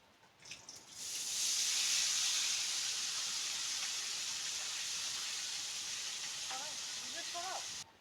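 Cumin seeds and mutton for biryani hit hot oil with a sudden loud sizzling hiss that starts after a second and stays steady and close, a few clinks near the end.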